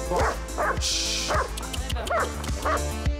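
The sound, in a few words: dogs barking in a children's playground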